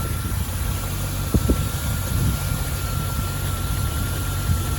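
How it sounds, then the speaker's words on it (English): A Land Rover Defender's 4-litre V8 engine idles warm with a deep, even rumble and a faint high whine, running smoothly without revving through a standard exhaust. "a quick video of the engine running nice and warm on this Land Rover Defender 50th anniversary 4-litre V8 automatic"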